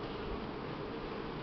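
Buckfast honey bees buzz at an open hive during spring willow flow, a continuous close, loud drone with no pauses.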